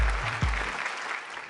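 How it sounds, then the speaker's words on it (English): Brief burst of applause from a business leadership event audience at an Aditya Birla Group gathering, broadband clapping that stays steady through the short moment with a low thump near the start. "let's welcome her with a round of applause."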